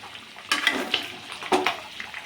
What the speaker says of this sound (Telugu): ఇదైతే చికెన్ ఫ్రై అవుతుంది చూడండి